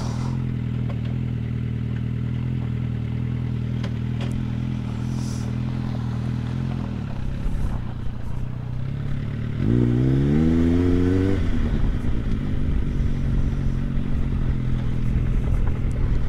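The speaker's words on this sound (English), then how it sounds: "Oh, car coming up here now." A car on a pothole-strewn Oxfordshire country road, running as a steady low engine hum that swells with a rising, revving pass around the middle before settling back to a constant drone, close and fairly loud.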